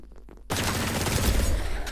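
A fully automatic Savlo's Wrath gun in ADACA fires a sustained, loud, close burst of rapid shots that starts abruptly after a brief quieter moment and continues to the end.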